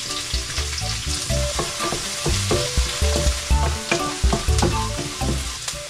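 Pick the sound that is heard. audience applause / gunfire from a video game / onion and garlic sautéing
onion and garlic sautéing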